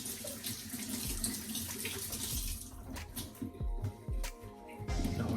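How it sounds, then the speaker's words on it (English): Tap water runs steadily into a kitchen sink as hands are rinsed under it after marinating pork chops, the splashing broken by brief movements and small clunks, close and moderately loud. "I'm just gonna rinse off my hand."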